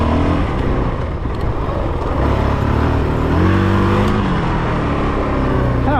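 A Honda CRF450RL dirt bike engine ridden off-road, a loud continuous drone that chugs along in a high gear with slight rises in pitch and load, close and steady throughout.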